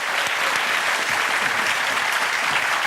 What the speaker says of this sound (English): big round of applause for Pat Lamont